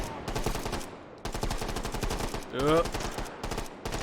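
Rapid automatic gunfire in the virtual reality shooter game H3VR, long dense bursts of closely spaced shots, loud and near, broken by brief pauses, with a short voiced exclamation rising over one burst.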